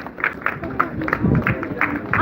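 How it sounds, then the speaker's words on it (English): An audience applauds in a standing ovation at a corps members' gathering, a steady wash of clapping and crowd noise with some mixed-in voices throughout. "Please put your hands together again with a standing ovation"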